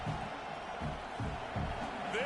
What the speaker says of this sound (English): This crowd, full throat, splitting the eardrums and letting him know it's going to be a long day